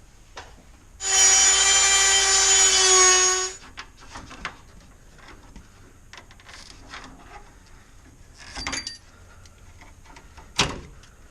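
On a 2000–2004 Nissan Xterra, a Dremel rotary tool cuts into a brittle hose clamp in one loud, high whining burst of about two seconds, followed by quieter tapping and handling noises.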